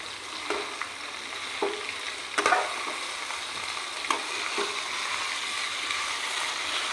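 Mutton pieces sizzle steadily in a pan with green chilli, tomato and masala, while occasional scrapes and clinks of stirring break through the continuous frying hiss.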